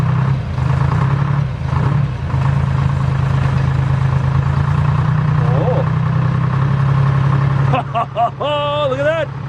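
An old 1960s Pettibone machine's engine runs with a steady low rumble, near and fairly loud, then changes near the end as other sounds rise over it.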